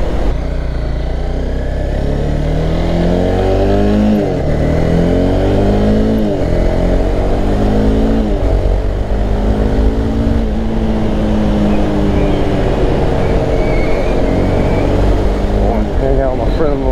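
A Honda CBR300 motorcycle engine revs hard again and again during wheelie practice, its pitch climbing in repeated surges over a loud, constant rumble, with wind roar close to the rider.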